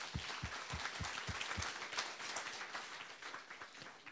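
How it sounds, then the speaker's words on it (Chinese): A church congregation applauds at a Sunday service, a soft, distant wash of many hands clapping, with a few sharper, lower claps standing out near the start before the sound fades gently. "我们把掌声归给神"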